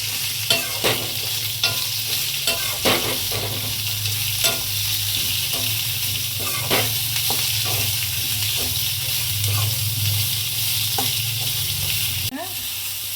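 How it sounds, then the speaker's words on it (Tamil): Onions fry over a high flame for kima kulambu, a loud steady sizzle with repeated scraping stir strokes and spoon knocks against the pan throughout, ending with a sharp clang, with no talk. "அது நல்லா வதங்கிட்டு வந்துட்டு சீக்கிரம் வதங்க போட்டு, இப்போது தீயை நல்லா பெருசாக வச்சுக்கோங்க"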